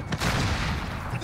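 Gunfire in a video game shooter with an XM4 rifle and Kar98, a dense burst of shots filling the clip, loud and close, with some voice chatter mixed in.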